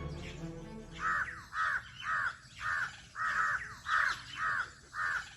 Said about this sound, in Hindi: ये चिड़िया कालू कौवे को देखकर पूछती है, कौवे भाई?